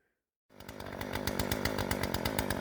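A Jonsered 2245 chainsaw starts abruptly after a short silence and runs steadily close by, loud and buzzing with a fast regular engine pulse, in freezing weather around -8 °C.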